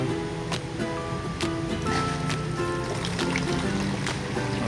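Water pours and splashes steadily into a container while mixing a hydroponic nutrient solution, a continuous rushing sound with occasional sharper splashes, close by.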